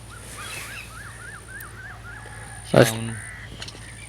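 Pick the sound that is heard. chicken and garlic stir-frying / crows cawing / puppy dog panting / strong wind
crows cawing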